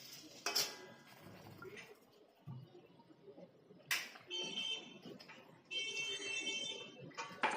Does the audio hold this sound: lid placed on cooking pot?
yes